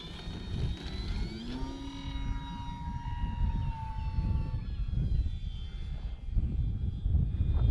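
A Bighorn radio-controlled model airplane flies a go-around after a landing approach, its small electric motor whining and shifting pitch as it passes, heard at a moderate distance over rumbling wind noise with no talk.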